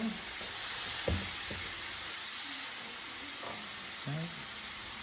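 Celery and onions fry in a pan with a steady, soft sizzle throughout, while a few louder clinks and stirring knocks of a utensil break in near the start and again toward the end. No one speaks.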